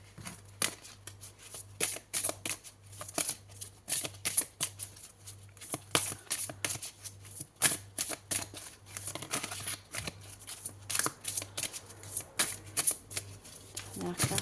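Oracle cards shuffled by hand in a rapid, steady stream of crisp riffling flutters, close and clear, with a voice speaking softly at times over the shuffling.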